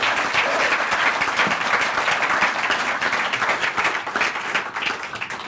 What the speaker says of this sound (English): So we'll give him a big round of applause